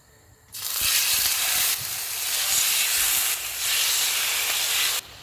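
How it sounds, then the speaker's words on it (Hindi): Chicken pieces laid in hot oil in a pan set off a loud, bright sizzle and hiss that starts abruptly and holds steady, dipping briefly twice before cutting off. "ऑयल गर्म हो गया, इसमें चिकन के पीसेस रख देंगे।"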